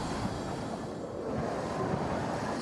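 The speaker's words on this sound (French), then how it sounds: "Le vent est terrible." Steady roaring rush of strong wind during Category 5 Hurricane Irma, a dense, continuous low rumble like a gusting storm, heard alone without voices.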